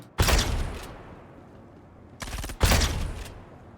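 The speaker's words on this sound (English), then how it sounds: "the shotgun actually worked." Shotgun blasts in the video game Star Citizen: two loud, close booming shots with a sharp attack and a brief rolling tail, separated by about two seconds, and a smaller crack just before the second shot.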